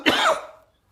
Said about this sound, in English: I'm going to cough real quick.